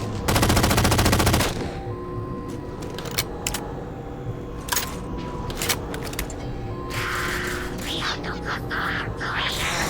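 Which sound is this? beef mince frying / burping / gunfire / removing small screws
gunfire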